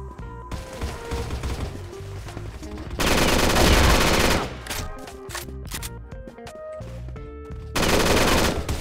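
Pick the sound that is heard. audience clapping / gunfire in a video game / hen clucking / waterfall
gunfire in a video game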